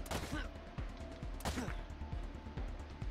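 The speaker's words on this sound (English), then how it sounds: "Yay, we got a bullet into somebody." Gunshots in the game Wasteland 3 during a tactical combat turn: a few sharp, fairly quiet reports at irregular intervals, mixed with other game sounds and some voice.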